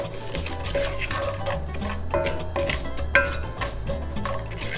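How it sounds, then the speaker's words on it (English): Rice being toasted for Mexican rice scrapes and rattles as a utensil stirs it around a preheated pan, with repeated close stirring strokes, light clinks against the pan and a faint sizzle underneath. "you're gonna move your rice around until it gets toasty and kind of a light brown color"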